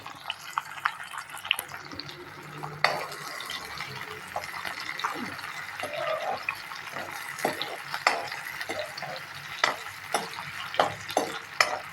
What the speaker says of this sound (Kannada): ಇದನ್ನು ಮೊದಲು ಎಣ್ಣೆ ಒಳಗೆ ಹೀರೆಕಾಯಿ ಎಲ್ಲ ಫ್ರೈ ಮಾಡ್ಕೋಬೇಕು